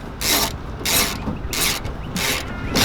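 A bolt on the front of a Hyundai Tucson exterior door handle is tightened with a ratchet, giving repeated bursts of rapid clicking in a steady rhythm, close and fairly loud.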